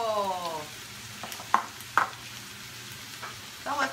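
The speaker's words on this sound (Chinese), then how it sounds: "稍微翻炒一下，让它的香气呢可以跟我们的豆干呢 mix 在一起哦" Chicken with garlic sprouts and dried tofu is stir-fried in a wok for Hakka stir-fry, with a soft background sizzle and a few sharp spatula scrapes and clanks, near and moderately loud, and no talk.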